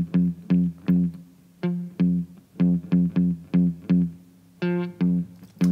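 A clean electric guitar without effects plays a rhythmic pattern of short plucked notes, roughly a dozen evenly spaced attacks that ring briefly and decay, close and solo with no voices.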